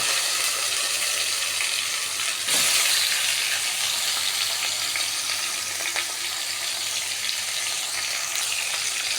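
Chicken drumsticks fry with garlic in a pan, a steady loud sizzle with a burst as the pieces are turned and stirred, close and continuous throughout.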